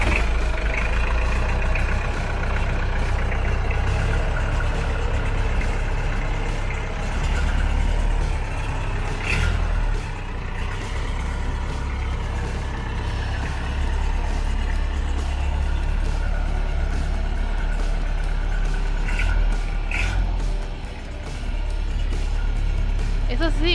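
An old restored small truck's engine idling close by, a steady low rumble that holds evenly with slight dips, while people talk over it.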